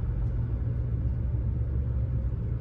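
Fourth-generation Toyota 4Runner V8 with its muffler deleted, heard from inside as a steady, deep exhaust drone and rumble that holds close and even with no distinct revving.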